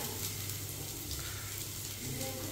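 Onion goes into a hot pan and sizzles with a steady, close frying hiss that runs unbroken for the whole stretch, with no talk over it.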